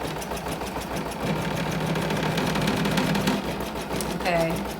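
A home sewing machine stitching at a deliberately slowed speed, giving a steady mechanical whir and patter that starts after a brief pause and carries on under faint room noise.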